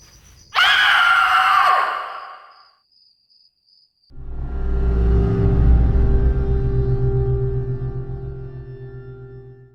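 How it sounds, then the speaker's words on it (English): A terrible scream rings out loud and close for about a second, then breaks off into near silence before a low, steady rumbling drone fades in and carries on. "That scream. That terrible scream."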